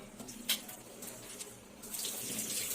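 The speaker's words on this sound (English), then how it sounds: "Let me first wash my hand." Running water from a tap while hands are washed before a clinical examination, a steady splashing hiss with a brief louder burst early on, close by with no talking.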